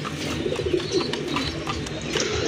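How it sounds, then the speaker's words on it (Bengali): Pigeons of a down-shaped breed cooing nearby in soft, repeated rolling calls that overlap one another in a steady murmur, with no talking. "আরেক জোড়া কবুতর মাশাআল্লাহ"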